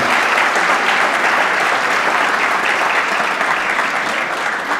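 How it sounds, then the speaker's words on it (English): A banquet audience at a scholar-athlete event breaks into a round of applause, dense and loud, sustained evenly for several seconds before easing slightly at the end. "give a round of applause"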